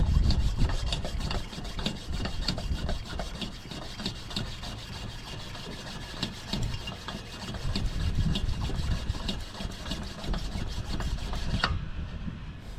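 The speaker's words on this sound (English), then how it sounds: "Let's see if it'll pump up and build any pressure." The air pump of a 1931 Coleman 220B lantern is worked by hand in quick, steady rubbing strokes, close and fairly quiet, ending abruptly.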